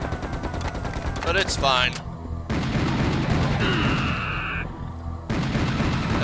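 Loud gunfire from the video game Serious Sam: The First Encounter, with dense rapid bursts and booming shots almost throughout. Someone talks briefly over the shooting.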